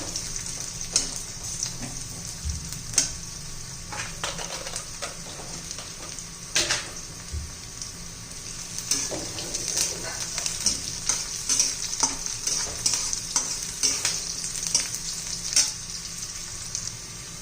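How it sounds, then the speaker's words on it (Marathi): Peanuts and onion fry steadily in a pan, a continuous close sizzle broken by occasional stirring scrapes and clinks throughout. "कांदा बाजूला सारून शेंगदाणे तळून घेऊया"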